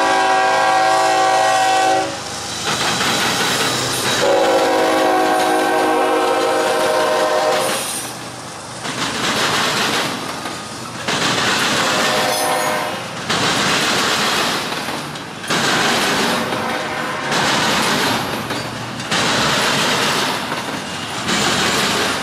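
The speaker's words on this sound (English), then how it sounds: "this will be the last intermodal of the day for NS" A Norfolk Southern intermodal freight train bound for Norfolk, Virginia, sounds long loud horn blasts in northern Ohio, then rolls past close by with a steady, pulsing roar of railcars and rhythmic wheel clatter.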